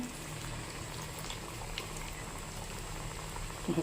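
Moong dal vadas frying in hot oil give a steady, close bubbling sizzle with fine crackles throughout, heard alone with no talking.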